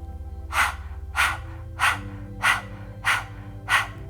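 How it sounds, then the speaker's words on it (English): Forceful rhythmic panting during a pranayama breath-of-fire exercise, mouth open and tongue out, six sharp breaths roughly every 0.6 seconds, close and loud over a low steady hum. "opening up the mouth, sticking out the tongue, and panting like a hot dog"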